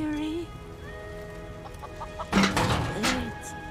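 Chickens cluck in Final Fantasy VII Rebirth, a few quick fowl clucks and squawks bunched near the end over quiet game music and soft tones.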